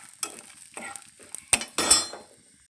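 Dried fish frying in a pan at night while being stirred, with a few sharp scrapes and clinks of a utensil over a soft sizzle, louder bursts near the end.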